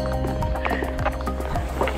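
Horse hooves clip-clop on a Swiss campus, a brisk rhythmic series of close knocks over a steady low hum.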